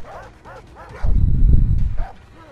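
Dogs in the jungle shooter Far Cry 3 give a run of rapid sharp barks and yips, broken by a loud low rumbling burst in the middle, with more barking after it.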